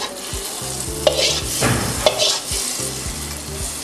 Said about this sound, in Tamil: கொஞ்சம் நல்லா ஃபுல்லாக ஸ்ப்ரெட் பண்ணி கிண்டி விடுங்க.